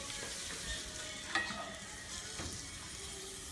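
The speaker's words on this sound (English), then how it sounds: "you can hear them mushrooms and onions over there sizzling" Mushrooms and onions sizzle steadily in a frying pan during home cooking, a soft continuous crackle with a brief scrape of stirring partway through.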